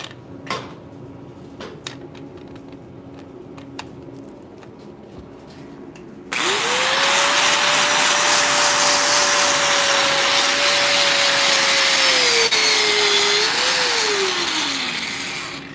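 Stick welding with a welding rod starts abruptly after a few quiet seconds of faint clicks. It becomes a loud, steady crackling hiss with an underlying hum that shifts pitch, then it tapers off near the end, with no talking.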